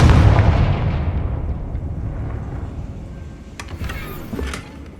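A Confringo fire spell in the Hogwarts Legacy video game goes off as a loud, close explosive burst that decays over a few seconds, followed by fainter rumbling and scattered small cracks.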